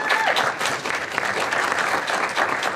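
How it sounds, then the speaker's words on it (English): Audience applause at a public event on racism as a human rights and public health crisis, steady dense clapping from a crowd filling the whole moment at a fairly loud level. "Please give them a round of applause."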